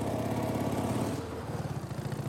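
A motorcycle engine runs close by on a ride through the desert of Armenia, its loud, buzzing throb holding steady with a slight shift in pitch partway through.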